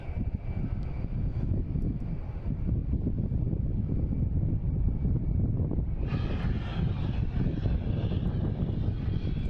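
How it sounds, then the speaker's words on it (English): An Alaska Airlines jet lands on runway 4 Right at Boston Logan International Airport, its engines giving a steady, continuous roar that grows louder and brighter partway through as the plane passes closer, with no talking over it. "we have Alaskan Airlines coming in, landing on 4 right"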